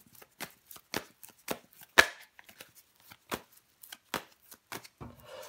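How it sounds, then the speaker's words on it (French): Tarot cards handled and laid down on a table, a series of sharp separate taps and light slaps with faint shuffling between them, close by, and no talking. "Je vais recouvrir des cartes."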